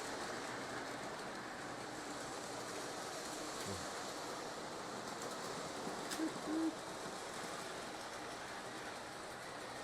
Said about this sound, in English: I turned up the throttle a little so the Southern Pacific's coming down a little faster.